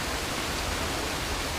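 A waterfall rushing on Vancouver Island, a dense, steady broadband roar of falling water with no break, fairly loud and alone.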